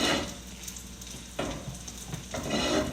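Garlic and spices sizzle in hot oil in a pan as the base for shakshuka, a steady close frying hiss with a few brief stirring bursts and no talk.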